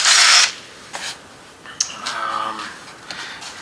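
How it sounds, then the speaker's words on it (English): A power drill with a 7/16 bit whirs in a short burst, drilling a hole in a Jeep WJ rear hatch, then stops; scattered clicks and a quieter mechanical hum follow. "I'm just going to drill a hole off to the side here"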